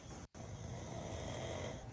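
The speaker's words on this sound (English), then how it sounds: "he's snoring like a champ" A man asleep snoring steadily, a low rough rumble continuing through the moment with one brief break, fairly quiet and close with no talk over it.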